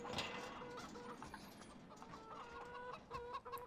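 Chickens cluck and murmur in a snowy winter farmyard in the video game Farming Simulator 2017, a dense, busy flock sound with repeated short clucks, fairly close, with no talk.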